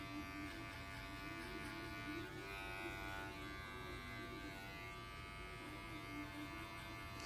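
Electric hair clippers buzz steadily and quietly, close at hand, during a brush wave haircut, giving a faint, even hum with no pauses and no talking.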